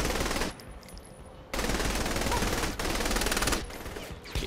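Gunfire in the Saints Row The Third Remastered video game: dense bursts of rapid automatic fire that come and go in loud sustained stretches with short breaks, close and harsh.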